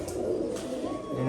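A lively domestic pigeon coos softly close by in a home loft, a brief low murmuring call heard while a person talks over it.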